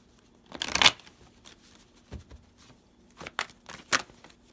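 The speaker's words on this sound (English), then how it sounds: "Okay, one more shuffle." A tarot card deck being shuffled by hand, heard as a few separate papery riffles and soft card slaps spaced out over several seconds, fairly close and moderately quiet.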